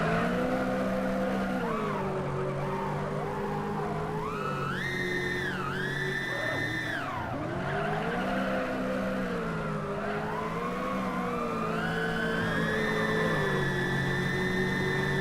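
Race cars in a video game, engines whining and rising and falling in pitch as they accelerate and slide, a continuous loud drone throughout.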